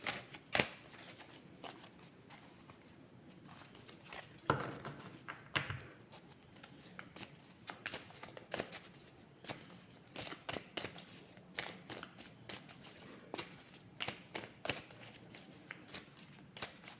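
Tarot cards being shuffled and cut by hand, a quiet close run of crisp riffling snaps and soft slides arriving in irregular bursts, heard alone with no talking.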